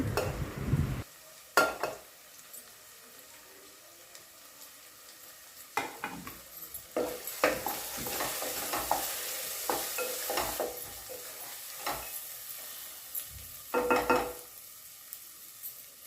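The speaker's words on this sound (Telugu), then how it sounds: "ఎప్పుడో పసుపు వేసుకొని ఇదంతా కలిసేదాకా కలబెట్టుకోవాలి" Onion and turmeric masala for mutton curry is stirred in a pan, with a soft background sizzle broken by irregular scraping strokes and clinks of the spoon against the pan, close and without talk.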